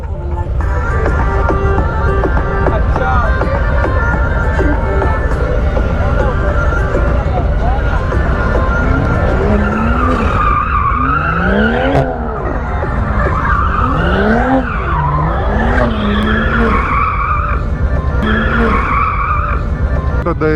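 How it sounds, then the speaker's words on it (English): Harley-Davidson motorcycles doing burnouts at a biker parade in Panchkula, with loud sustained engine roar and repeated tire squeals and skids up close, lasting throughout amid crowd noise. "burnout मारने लगे"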